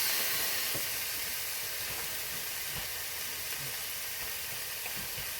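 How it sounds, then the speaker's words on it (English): Pork chops sizzle in a hot pan, a steady broadband hiss with scattered crackles and pops that runs continuously and fairly close throughout, with no talking. "Sizzle, sizzle."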